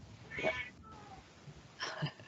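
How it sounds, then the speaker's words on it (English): A pet cat gives two short meows, one early and one near the end, fairly faint against a quiet indoor background. "That's my cat."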